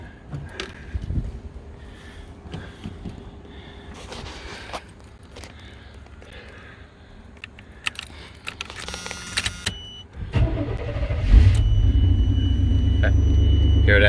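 1992 Chevy G20 conversion van with an overheating problem: keys jangle and rustle inside the cabin, then the engine cranks and catches, settling into a steady, loud low idle rumble that continues to the end.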